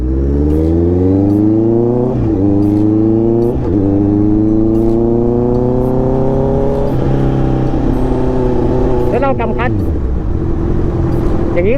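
A Honda CBR650R motorcycle engine drones loudly and continuously while riding, pitch climbing through several gear shifts, with a voice talking over it.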